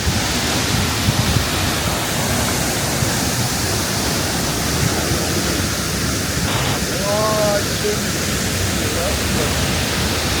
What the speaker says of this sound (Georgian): წყალი მესხმევა სუზენ.